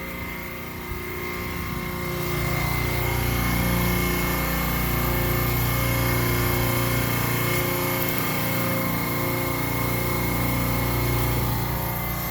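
A refrigeration rack compressor runs with a steady, loud mechanical drone and hum that swells slightly after a couple of seconds and holds constant, with no talking.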